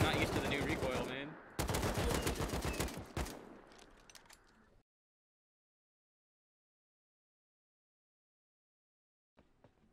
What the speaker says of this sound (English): I'm using explosive ammo in the AK